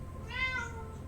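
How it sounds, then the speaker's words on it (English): A single cat meow, close and moderately loud, rising and falling over a steady low electrical hum indoors. "That was my cat."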